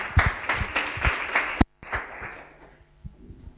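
A small audience at a women's entrepreneurship event claps at close range in irregular bursts, briefly cut off, then fading into scattered claps and room noise.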